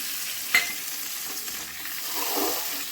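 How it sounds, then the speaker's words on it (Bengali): Hot water poured into a hot pan of fish curry base, giving a steady sizzle with a sharp splash at the start and a rising bubbling hiss toward the end. "আমি এখন অল্প একটু গরম জল দিয়ে দিলাম"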